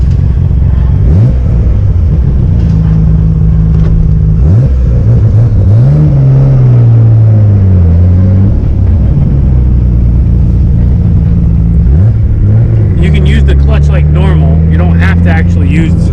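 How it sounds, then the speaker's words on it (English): A Nissan R33 GTR accelerates hard at wide open throttle through sequential gear shifts, its loud engine droning upward in pitch between each quick break, heard from inside the car. "this way you can see what the wide open throttle shifts look like"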